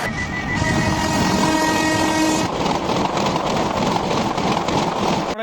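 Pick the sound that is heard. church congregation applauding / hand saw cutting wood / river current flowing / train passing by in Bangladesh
train passing by in Bangladesh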